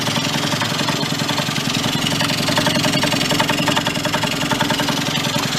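A Yamaha Vino two-stroke scooter found in a barn idles steadily and close, its engine putting out a continuous buzzing putter with a fast regular pulse throughout.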